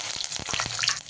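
Peanuts frying crisp in hot oil for a chivda made from leftover bhakri: a steady, close, crackling sizzle with a few faint stirring clicks, and no voices.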